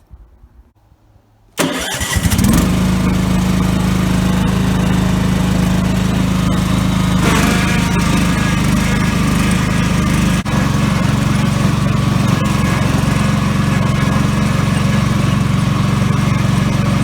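A Wheel Horse garden tractor engine with a banging noise cranks and catches after a short quiet moment, then runs loud and steady at close range, with a rough, throbbing mechanical tone throughout.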